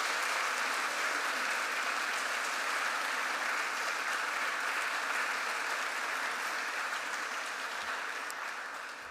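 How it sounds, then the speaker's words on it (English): Conference audience at the closing of the Vienna Migration Conference 2022 breaks into dense, sustained applause, a steady roar of many hands clapping that holds for several seconds before tapering slightly at the end. "Give them a big applause."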